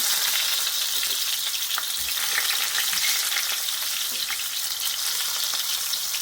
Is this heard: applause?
no